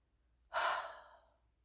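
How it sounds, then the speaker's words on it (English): One deep, audible breath is drawn in and let out softly, like a quiet sigh, close to the microphone in an otherwise hushed room. "So taking a deep breath"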